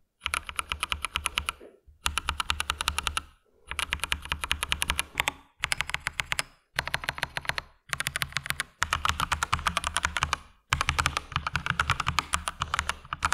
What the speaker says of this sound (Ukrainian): про прокачку клавіатури PewDiePie, пам'ятаєте звук друку на повністю кастомній клавіатурі?